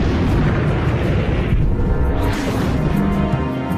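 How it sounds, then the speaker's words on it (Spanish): A Panther tank (Panzer V) cannon blast in a World War II tank battle in the Ardennes, Belgium: a loud, continuous booming roar that fills the whole moment without a break. "Y el Panzer modelo 5. El Pantera, que estaba justo a mi lado,"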